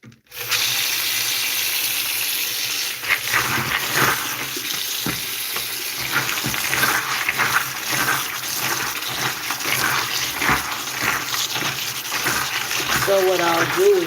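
Tap water runs steadily from a faucet as microgreen seeds are rinsed, a continuous close splashing with faint handling clatter and no clear talking.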